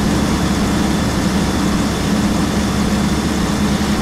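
Mercedes SD85 bus engine in the OMSI bus simulator game, a loud, dense, steady low drone held at high revs throughout with no break.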